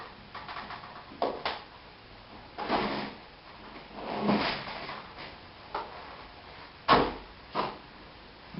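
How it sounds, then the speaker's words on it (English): Latches rotated and the access door pulled off a Trane Clean Effects air cleaner: a series of quiet scraping, clicking and sliding knocks spaced irregularly, with a sharper clack near the end, no talking. "Next, rotate the 2 latches and remove the door."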